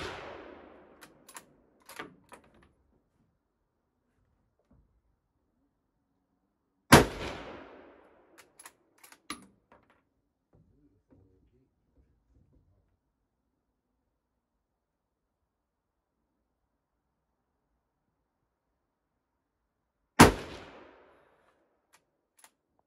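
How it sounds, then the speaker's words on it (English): Rifles firing at an outdoor shooting range with steel 22 LR targets, a few sharp single shots spaced far apart with echoing decays, some faint pops and mostly silence between them. "And the guys are shooting."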